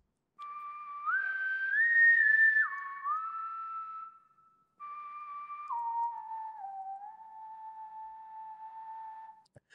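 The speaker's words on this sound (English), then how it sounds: "The whistle, it sounds very realistic. There is that breathy feel in there." A breathy, melodic whistle carries two long phrases separated by a short pause, sliding between sustained notes, clear and alone.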